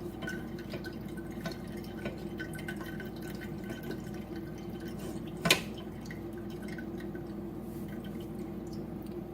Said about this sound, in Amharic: እና እንደዚህ እያደረኩኝ ውሃውን ሁሉንም እንዲወጣ አደርገዋለሁኝ ማለት ነው።